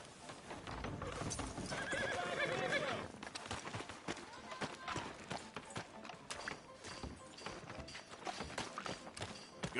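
A horse in Red Dead Redemption 2 gives a loud whinny near the start, then hooves clip-clop steadily on a town street while voices talk over the scene.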